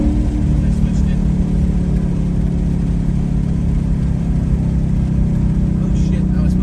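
Deep, steady exhaust drone from a 2019 Mustang GT V8 fitted with a Corsa active exhaust in track mode, heard from inside the car as a continuous low rumble at cruising speed.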